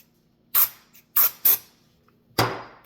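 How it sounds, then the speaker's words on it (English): Short sharp spray bursts from a cleaner bottle onto a Glock pistol frame, four separate hissing pumps close up, three quick and one after a pause, in a quiet room. "I'm gonna spray it."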